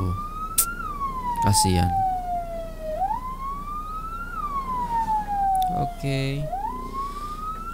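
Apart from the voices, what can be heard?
ambulance siren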